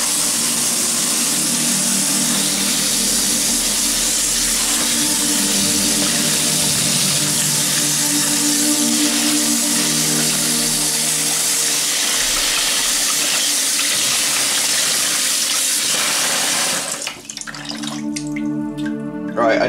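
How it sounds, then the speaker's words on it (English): Tap water runs steadily and loudly as a Polish MP5 gas mask is rinsed under it, a continuous gushing splash that stops abruptly near the end, leaving a few drips. "Right, let's rinse it off."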